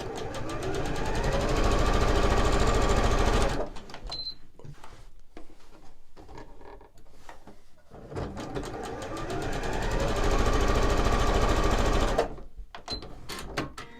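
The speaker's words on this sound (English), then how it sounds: "And then I'm going to sew the 2 sets together to create our hour block." Sewing machine stitching quilt block pieces with a scant quarter-inch seam, running loud and fast in two long bursts of rapid rhythmic stitching separated by a quieter pause.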